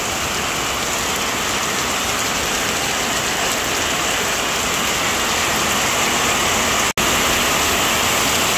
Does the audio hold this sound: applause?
no